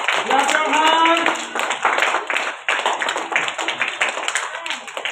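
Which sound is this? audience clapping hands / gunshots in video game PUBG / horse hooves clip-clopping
audience clapping hands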